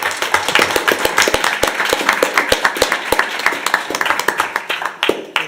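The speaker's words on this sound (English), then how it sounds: "let's get another round of applause for all the accomplishments in Salt Lake" Sustained applause from an audience at a school district board meeting, dense overlapping claps at steady loudness filling the room for the whole stretch.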